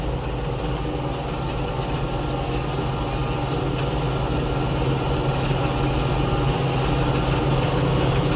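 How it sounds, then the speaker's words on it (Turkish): A tractor pulling a soil-working implement across a dry summer field for wheat sowing, heard from inside the closed cab: a steady, loud low engine drone with constant broadband rumble and faint rattling of equipment, no voices. "Kapalı olduğu halde çıngır çıngır şey, şey sesi geliyor, ekipmanın sesi geliyor."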